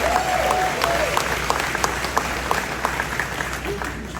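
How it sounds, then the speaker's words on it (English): A crowd at the Knoxville Nationals drivers meeting claps for a sponsor, scattered, moderately loud claps ringing out in a loose rhythm, thinning toward the end, with a voice briefly heard over them. "If you would give a round of applause after we mention these people."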